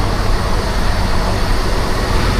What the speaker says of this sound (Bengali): পুটনা ট্রেন চলে আসছে